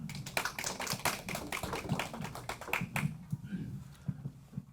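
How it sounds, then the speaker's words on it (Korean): An audience at a socialist conference labour session claps to welcome a speaker, a dense burst of applause from many hands that fades out over a few seconds. "일단 박수로 모시겠습니다."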